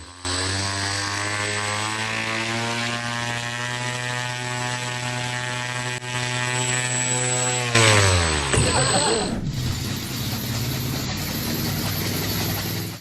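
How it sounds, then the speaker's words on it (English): A small engine on a homemade helicopter drones loudly and steadily with a buzzing rotor hum, then winds down sharply before rumbling on rougher and noisier. "This is a helicopter entirely built by hand, ready for its first test flight"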